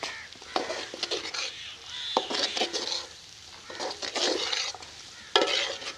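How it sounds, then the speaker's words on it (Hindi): Chopped green coriander is stirred into matar keema in a karahi. A spoon scrapes and clacks against the metal pan in irregular bursts over a soft sizzle of frying, with no voices. "धनिया को मिक्स कर लेते हैं।"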